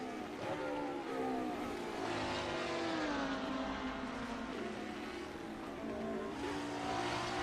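GT3 race cars at the Red Bull Ring in a racing video game, engines droning and shifting pitch as they rev and pass, continuous and moderately loud with overlapping engine tones.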